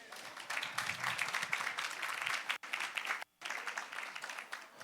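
Audience applause welcoming California State Senator Anthony Portantino at a campus conference on the future of work: dense, sustained clapping from a crowd, with two brief gaps before it resumes steadily.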